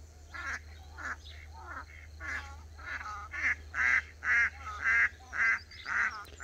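Female ducks quack loudly from nearby in a repeated run of harsh, insistent calls that grow louder and more regular toward the end, over a steady low background hum on a small farm.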